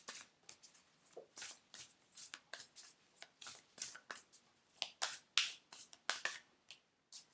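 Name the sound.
shuffling Angels and Ancestors oracle cards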